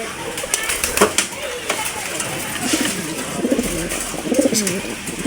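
Soft coos of caged domestic pigeons sound among busy bird chatter and a few wing flutters, with a steady background hum and some faint voices.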